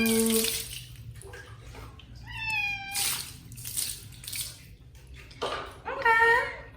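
Water splashes and runs over a cat during a bath, with the cat meowing plaintively several times; a person talks softly in between.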